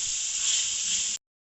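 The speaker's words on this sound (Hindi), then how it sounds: "हाई फ्लेम पे हम 1 से 2 मिनट के लिए फ्राई करेंगे।" Finely chopped medium carrots fry over a high flame for a macaroni dish, giving a loud, steady hiss and sizzle that cuts off abruptly near the end.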